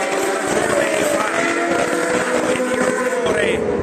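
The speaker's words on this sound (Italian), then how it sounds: "suono dei motori" Formula 1 cars circle the track at the Austin Grand Prix, a loud sustained high-pitched engine whine with a gliding tone, steady and unbroken, under a commentator's talk.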